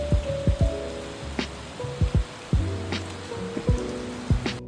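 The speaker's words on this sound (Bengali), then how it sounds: "আর বাড়িতে আসতে না আসতেই তো জোরে বৃষ্টি নেমেছে।" Heavy rain falls outside a house, heard as a string of distinct, ringing water drops and splashes that land irregularly and close by against a soft wash of background rain.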